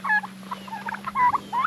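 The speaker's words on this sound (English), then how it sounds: "Here's our chickens and turkeys. And guineas." Chickens, turkeys and guinea fowl on a homestead, a flurry of short overlapping clucks and gobbling calls over a steady low hum.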